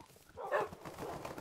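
A single short dog bark or yip from a Minecraft dog, mid-loud and brief, set against faint low background noise.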